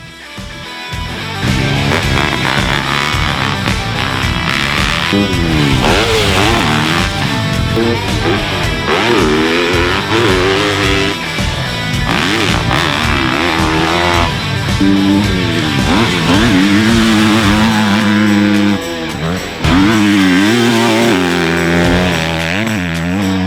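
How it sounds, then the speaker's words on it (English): A 2021 Yamaha YZ250F 250cc motocross bike engine revs loudly and continuously through repeated rising and falling pitch sweeps as it shifts gears, with a loud airbox cover that makes the intake reverberate. "airbox cover of the YZ250F makes the reverberation sound extremely loud, which also makes the bike sound faster"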